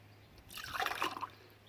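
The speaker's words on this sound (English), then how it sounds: "So I'm going to pour the water over it." Water is poured over a cup, giving a short, faint splashing trickle that swells and fades within about a second, with no voices.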